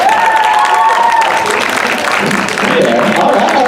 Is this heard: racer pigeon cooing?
no